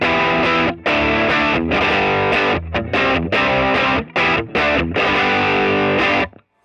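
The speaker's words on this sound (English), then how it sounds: "Nice old school distortion." Overdriven electric guitar played through the overdrive loop of a One Control Crocodile Tail Loop switcher, giving a loud old-school distorted tone in chopped, rhythmic chords and stabs that stop abruptly at the end.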